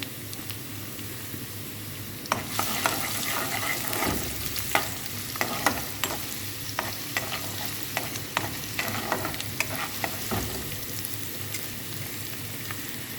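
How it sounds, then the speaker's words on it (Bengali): Garlic and ginger frying in oil, a steady sizzle and frying hiss with repeated clinks and scrapes of a utensil stirring in a pan, close up, no voices. "এখন রসুন আর আদাটা দিয়ে দিব হালকা ভাজার জন্য"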